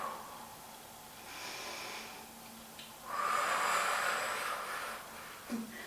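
A long, airy exhaled breath during a core-strengthening exercise, a steady hiss of air rising for about a second and a half before fading, close and fairly soft, with no talking.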